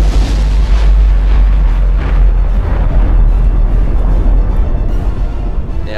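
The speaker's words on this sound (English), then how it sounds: "you get rewarded with a very beautiful explosion" A big explosion in the strategy video game Planetary Annihilation: a loud, dense roar of deep rumbling that stays heavy and sustained for the whole six seconds, with no talk over it.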